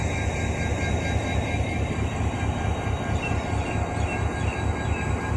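A railway locomotive idles near the tracks in Karachi, giving a steady loud diesel rumble with a constant mechanical hum and no talk.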